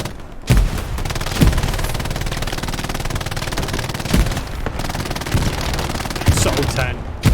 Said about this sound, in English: Sultan mullering the bullets out of his gun